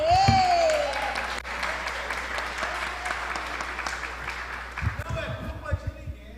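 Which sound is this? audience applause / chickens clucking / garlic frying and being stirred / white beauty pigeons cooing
audience applause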